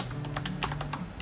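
Keys tapped on a computer keyboard while entering a terminal command to set up SSH access to a Jetson Orin Nano from a Mac, a short run of soft, close clicks with no speech.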